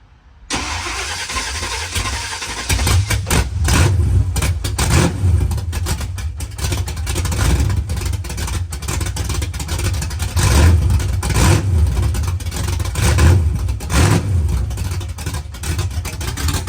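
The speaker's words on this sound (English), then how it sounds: "y'all might want to hear what it sounds like open headers." A car with open headers fires up from a cold start after a brief silence, then settles into a loud, lumpy, throbbing idle with rough pulses and occasional surges, close and unmuffled.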